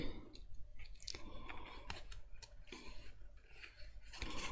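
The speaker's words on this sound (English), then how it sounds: "I'm not moving the scissors. I'm moving the paper as I cut round." Scissors cut paper for a handmade paper purse, a quick irregular run of close, crisp snips and rustles as the sheet is turned through the blades, with no talking.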